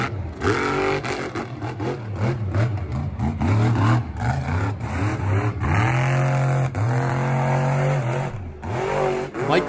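Monster truck engines at a Monster Jam show in Rice-Eccles Stadium, Salt Lake City, roar loud and close with repeated revving surges and drops, a steady heavy motor drone throughout.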